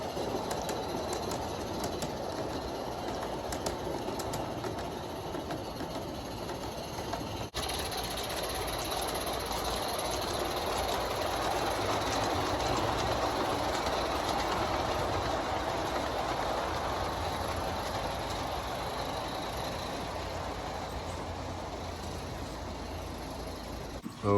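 A faint, steady mechanical rumble of a small model train locomotive climbing a 2% grade outdoors, running continuously, with light clicking and occasional bird chirps in the background.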